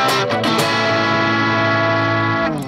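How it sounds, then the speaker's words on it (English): Electric guitar chord played through an MXR Micro Amp boost pedal with chorus, ringing out loud and sustained with a shimmering, slightly distorted tone after a few quick strums, then fading at the end. "So now the microamp is kicked in and then it sounds like this."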